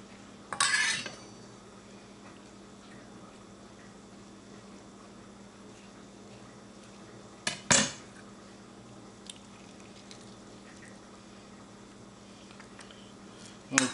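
Metal cutlery clinks and scrapes against a bowl while an avocado is sliced and scooped out, in a few short bursts spread across an otherwise quiet stretch.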